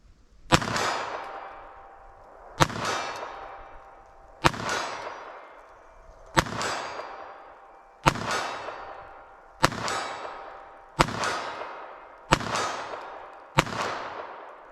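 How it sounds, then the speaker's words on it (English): Nine pistol shots of Aguila Interceptor .22 LR fired at a steel target from 40 yards, each a sharp crack with a ringing metallic clang trailing off, spaced evenly about every one and a half to two seconds, fairly distant and alone. "Let's see if I can make any hits with this. 22 long rifle."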